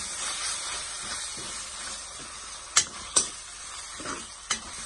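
Sliced onions fry with turmeric powder and ginger-garlic paste in a pan for a Tamil fish curry, giving a steady close sizzle and hiss, with a few sharp clicks of a spoon stirring against the pan.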